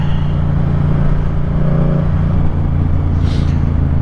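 A car engine rumbles steadily from inside the cabin while driving, a low continuous drone with a faint rise near the end and no talking.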